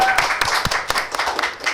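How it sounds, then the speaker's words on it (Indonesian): Audience clapping during a casual inspirational talk session, a short burst of brisk, fairly close hand claps with irregular sharp hits, no speech over it. "Wow, tepuk tangan dong."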